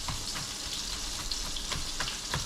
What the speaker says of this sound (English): Fry them off. Fry the sauce off.